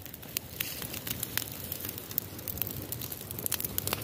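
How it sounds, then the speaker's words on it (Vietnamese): A fire burns in the Buôn Đôn forest to drive off bees, giving a dense, steady crackle and hiss that stays fairly quiet and even throughout. "Đốt lửa thế này nó mới không xuống cho em nhé."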